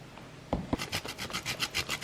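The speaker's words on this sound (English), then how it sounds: "So I like to loosen the edges a bit with a knife." A knife loosening the edges of a breakfast dish: two sharp clicks, then a steady series of short scraping strokes in an even rhythm, close and fairly quiet, with no talk.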